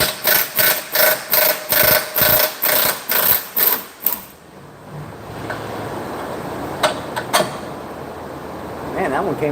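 A power tool zips in a run of about ten rhythmic bursts as bolts come out of a Ford car, followed by quieter clanks and shop noise with a few sharp taps near the end.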